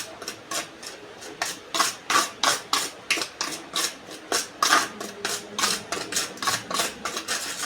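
A spoon stirs drumstick pods with spices in a bowl, giving steady, close rhythmic scraping and rubbing strokes that repeat quickly and evenly with no voices.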